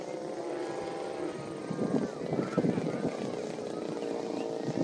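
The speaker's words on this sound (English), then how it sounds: "it looks like Tim's bringing his plane back" A small propeller airplane drones overhead at an outdoor candy-drop event, its engine hum steady and moderately loud with a slight swell midway, while people talk nearby.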